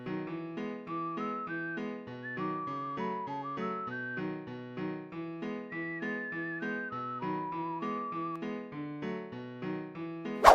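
A whistled melody from the Sprunki music game plays over a steady looping musical backing, the tune moving in short stepwise phrases at a moderate, even volume throughout, with no voices.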